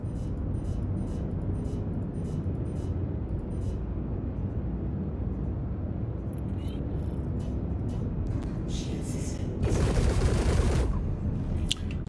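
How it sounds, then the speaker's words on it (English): Ship guns firing in the space game Star Citizen, a steady dense rumble of continuous weapon fire that swells louder and brighter for a burst near the end. "Whoa, the guns sound different."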